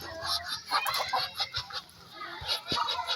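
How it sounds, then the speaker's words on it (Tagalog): Ducks quack and honk in a noisy cluster, a rapid overlapping series of calls, fairly close with outdoor background. "Yung mga pato ko."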